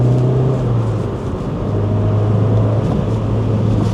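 A car engine drones steadily, its pitch dipping and then quickly blipping back up as the driver rev-matches a heel-and-toe downshift, with continuous engine hum throughout and no talking.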